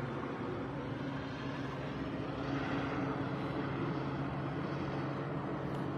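A large drone or aircraft searching overhead at night, lighting up trees, gives a steady low droning hum that stays fairly even and distant throughout, with no voices.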